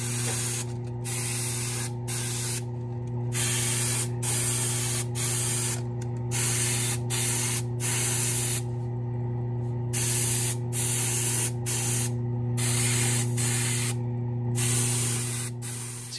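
An airbrush sprays brown weathering paint onto the underside of an HO scale locomotive inside a paint booth, giving a close, steady hiss broken into short bursts by brief pauses, over a constant low hum from the booth fan.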